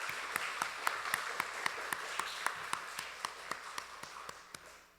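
A church congregation claps in thanks for the kitchen team at a Sunday service, producing rhythmic, unison clapping with evenly spaced sharp beats over a softer background of scattered applause, moderately distant and gradually fading.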